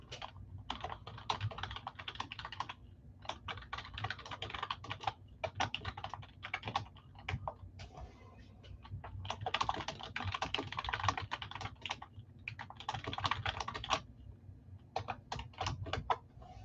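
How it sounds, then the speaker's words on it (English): Rapid typing on a computer keyboard, with bursts of crisp clicking keystrokes separated by short pauses, close and clear over a quiet background with no talking. "I started typing."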